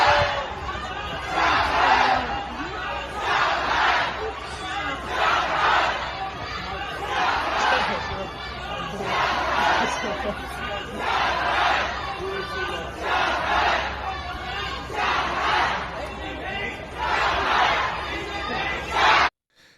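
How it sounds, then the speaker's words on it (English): A large crowd at a lockdown protest in China chants slogans in loud, rhythmic bursts of massed voices, repeating every couple of seconds over a steady background roar. "The crowd is shouting and the police officers do not stop them."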